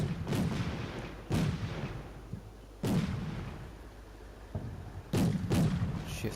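Artillery fire support bombarding buildings in the war game Combat Mission: Shock Force 2, four heavy booming impacts spaced a second or two apart, each with a rumbling low tail and no talk.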